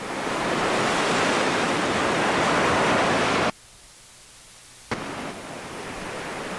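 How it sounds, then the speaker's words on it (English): Ocean waves play from a computer as a steady, loud broadband surf wash, which cuts out abruptly partway through, leaving near silence, then resumes more softly after a brief click. "Now we got some waves going on the computer"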